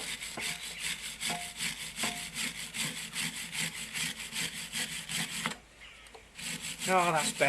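A rhythmic back-and-forth rasping scrape of rust being abraded off a vintage Denbigh pillar drill part, repeating about twice per second, moderately close, then a short pause and brief rustling.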